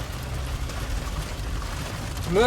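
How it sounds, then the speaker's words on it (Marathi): Steady, dense rain pours down in a constant broadband hiss with a low rumble underneath; it swells slightly louder near the end. "डेंजर पाऊस पडतोय रे, खूप डेंजर"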